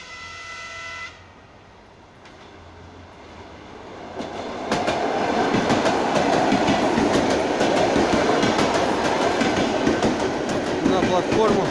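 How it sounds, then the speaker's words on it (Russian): Electric commuter train at Lianozovo railway platform in Moscow in autumn, a horn blast at the start, then a loud, close rush of wheels and clattering rail joints as the cars sweep past. "там вот подходит какая-то электричка"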